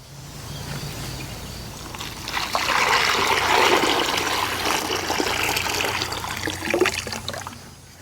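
Water is poured into a hanging Millbank filter bag, a steady splashing trickle that swells in the middle and runs on for several seconds, close by with no talk.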